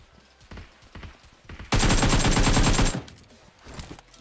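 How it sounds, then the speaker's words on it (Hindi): Automatic gunfire in the mobile battle-royale game PUBG Mobile erupts in a loud, sustained burst of rapid shots for about a second and a half, preceded and followed by quieter in-game sounds such as footsteps. "लेफ्ट से भी फायरिंग का आवाज आ रहा था"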